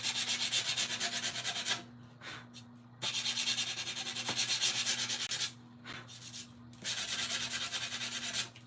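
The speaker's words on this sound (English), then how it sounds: "And this is a little detail sander." A small detail sander works over a painted craft piece in several close, steady buzzing passes broken by short pauses, with a low motor hum underneath and no talking.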